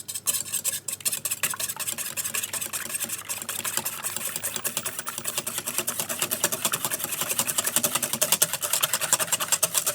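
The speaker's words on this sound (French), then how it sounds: "Donc on va fouetter, on va mélanger ça." An electric mixer whisks yogurt cake batter in a bowl, giving a continuous buzzing whir with a fast rattling pulse that runs steadily and grows slightly louder toward the end, with no voices.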